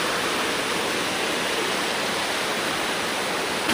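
Ashokjhar waterfall in Jajpur, Odisha, a steady, loud, close roar of falling water, broad and unbroken, with no voices over it.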